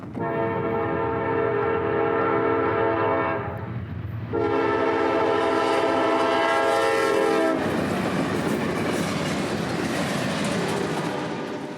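A priority intermodal freight train out of Jacksonville rolls past close by, its horn sounding in long sustained blasts over steady rumble, then giving way to loud rushing wheel and wagon noise.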